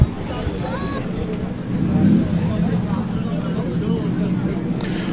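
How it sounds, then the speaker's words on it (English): A Triumph 3-litre V8 lets out a low, steady burble at a busy classic car meet, swelling slightly partway through amid background crowd noise. "Lovely burble from the 3-litre Triumph V8."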